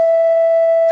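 Two steady pure sine tones a perfect fifth apart sound together, starting from a base A, loud and unchanging for under a second.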